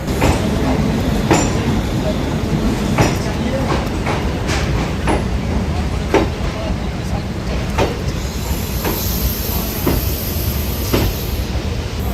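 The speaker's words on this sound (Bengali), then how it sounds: "এই মুহূর্তে আমরা ছেড়ে যাচ্ছি শিয়ালদা রেলওয়ে স্টেশন" A Sealdah–Dankuni local train pulls out of Sealdah station, its loud carriage rumble steady throughout. Repeated wheel clicks and knocks punctuate it, with faint voices mixed in.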